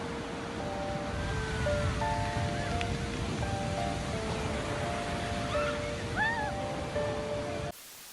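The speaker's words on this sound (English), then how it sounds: "These tourists seem to be quite fascinated by the dangerous waves approaching the coast." Dangerous ocean waves approach the coast as a continuous broad roar of surf, with faint tonal sounds layered over the wash.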